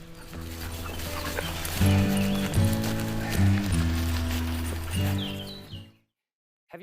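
A Bosnian mountain horse's hooves clip-clop over a bed of music, a moderately loud rhythmic clatter that fades out at the end.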